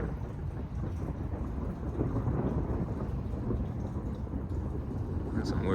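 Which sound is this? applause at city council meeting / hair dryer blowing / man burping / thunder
thunder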